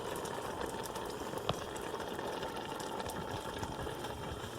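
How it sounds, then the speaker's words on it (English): A pot of homemade plum tomato soup simmers quietly. Soft, continuous bubbling and popping sit close by, with one small clink partway through and no talking. "Continuing to simmer my tomato soup."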